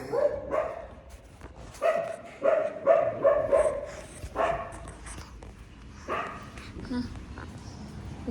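A dog barks repeatedly in short bursts nearby, mixed with whimpers and yips, while people talk in the background.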